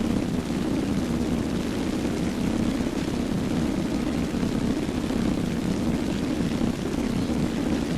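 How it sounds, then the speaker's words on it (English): Steady, loud engine drone of an aircraft flying in a combat video game, climbing for altitude, holding a constant broadband roar throughout with no talking. "So what I did do is I flew pretty much way around to get some altitude."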